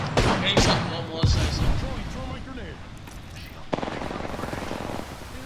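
Automatic gunfire bursts from the Apex Legends battle royale game, sharp rapid volleys loud up front then recurring more steadily, under excited team voice chat.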